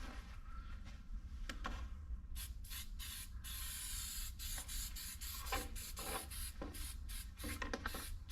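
Aerosol can hissing as a light coat of SEM plastic adhesive promoter goes onto old plastic car door panels; short close bursts of spray start and stop with brief pauses, over a low steady background hum.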